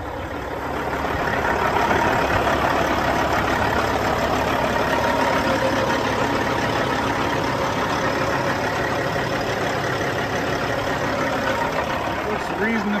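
A 2006 Freightliner Century 120 truck with 1.2 million miles idles in a steady, continuous diesel rumble that stays loud and even from start to finish.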